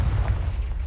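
A Confringo blasting spell explodes in Hogwarts Legacy as a deep, sustained rumbling boom that fills the brief moment without a sharp onset.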